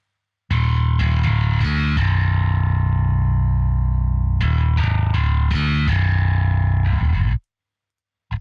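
Bass from a prog drum mix, squeezed by a compression plugin, plays thick sustained notes with a gritty top, holding a dense, even level for about seven seconds before cutting off abruptly, with no speech.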